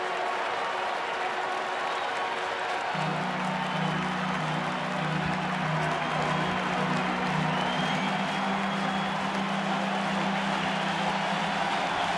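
Huge baseball stadium crowd at a Dodgers–Cubs game roaring and cheering as it rises to its feet on a full-count, bases-loaded pitch, a steady broad wall of noise with a low sustained hum beneath.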